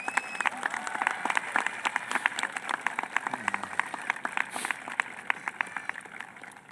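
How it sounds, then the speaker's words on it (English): Scattered, uneven clapping from high school graduates at an outdoor-sounding commencement ceremony, individual sharp claps standing out rather than a dense wash, with faint crowd murmur beneath. "Graduates, please take this time to give a round of applause to your peers"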